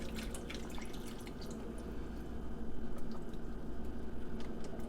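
Beef stock trickles and drips steadily into a slow cooker nearby, the splashing growing a little fuller toward the end, with no voices.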